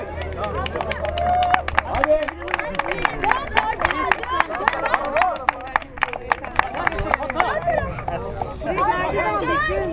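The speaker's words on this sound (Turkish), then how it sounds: "Alkış, alkış. Hadi," A group of children claps, producing sharp scattered hand claps over lively chatter and excited voices nearby, with an adult talking among them.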